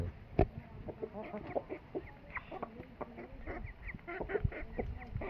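Bhimavaram roosters and hens cluck and squawk in a lively flock nearby, with overlapping calls, a few sharper cries and scattered rustling throughout.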